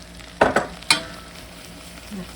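Flour is stirred into a seasoned mixture in a pan for smoker mac and cheese: three quick close scrapes of the spoon over a faint low sizzle, then quiet.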